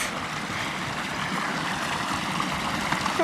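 Small waterfall flowing, a steady close rush and splash of water as an even wash of noise over three seconds, with no voices.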